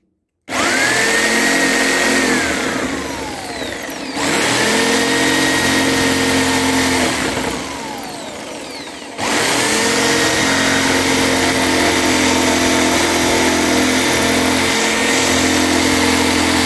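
A jigsaw cuts through a kitchen worktop, its whining motor buzzing loudly and close in sustained runs that dip briefly twice, with pitch sweeping as the blade starts and slows.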